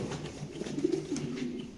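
Lahori pigeons at a pigeon market give low, throaty coos, a steady murmur of several birds close by with a brief louder cluster, no talk over them.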